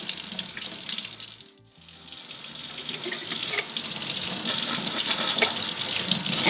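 Tap water gushes steadily, dropping out briefly near the start, then running loud and continuous as a filter is rinsed beneath it in a kitchen.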